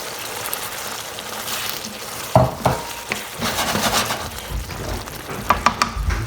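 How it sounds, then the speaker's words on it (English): A chickpea and potato curry cooks in a pan with a soft, steady sizzle and bubbling, broken by a few louder stirring scrapes and clanks of a spoon against the pan. "I'm just gonna wait for the potato to cook down."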